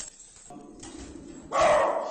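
A dog barks during a heated doorstep dispute, giving a short loud bark near the end after a stretch of muffled background sound.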